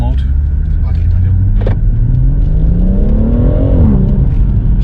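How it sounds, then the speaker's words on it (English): A BMW M140i in Sport Plus with manual mode revs its aftermarket exhaust, the engine note climbing and falling in a loud, close burst, with people talking beside it. "put it in Sport Plus, you can have a listen to the exhaust."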